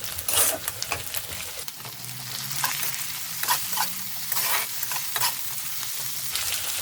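Sliced tomato goes into a sizzling pan of frying ingredients for a Bengali egg and pea curry while a utensil stirs, giving steady frying hiss with scraping bursts throughout.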